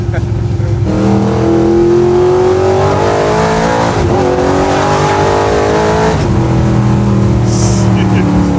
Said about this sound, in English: this car really gets after it, Mason.